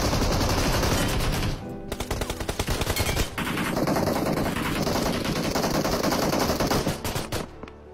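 Automatic gunfire from PUBG rattles in loud, dense bursts, with a brief pause near the middle before rapid fire resumes and runs almost to the end.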